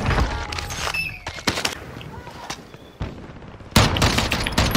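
Repeated gunfire in a shooter video game: sharp bursts and single shots crack out at uneven intervals, some close and loud, others fainter, with a heavy volley near the end.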